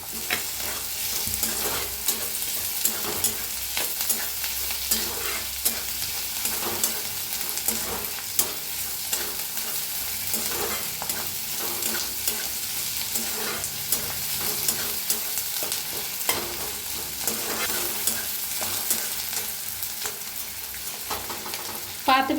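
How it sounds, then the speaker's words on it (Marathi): Spring onions roast in a pan for a baingan bharta recipe, giving a steady, dense sizzle of frying throughout with faint scraping stirs, close and continuous, with no talk. "आता इथं कांद्याचा पाताचा कांदा बी आहे, त्याला बी भाजून घेऊया"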